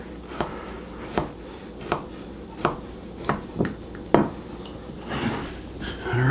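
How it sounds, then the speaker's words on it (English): A knife taps and scrapes against a pan while cutting around chilled no-bake chocolate cheesecake bars, seven evenly spaced clicks followed by a softer rubbing scrape, quiet and close. "all you have to do is just basically go around with your knife and do this"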